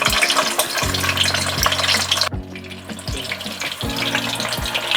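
Boiled eggs fry in hot oil in a pan over a medium flame, giving a loud, steady sizzle with a few low thumps and clatters as they roll and settle.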